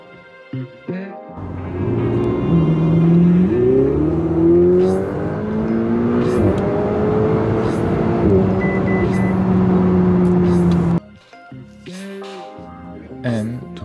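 A Ferrari 488 drives on a road trip to the Rhine Falls, its engine rising and falling through the gears with a sustained, loud interior drone that cuts off abruptly, followed by a few brief sounds.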